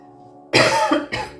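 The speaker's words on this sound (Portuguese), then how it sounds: "Tem um ser humaninho do lado de cá que tosse de vez em quando." A person coughs close to the microphone indoors during a tarot card reading: two harsh, loud coughs, the first longer and the second a short follow-up burst, after a quiet pause with no talk.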